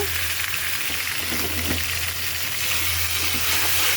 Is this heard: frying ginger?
yes